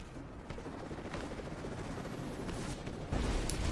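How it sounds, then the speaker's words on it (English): A helicopter in the video game Rise of the Tomb Raider: a heavy, continuous low rotor rumble with rapid chopping texture, growing louder toward the end, mixed with game effects. "once this chopper arrives again here, we will reload the checkpoint"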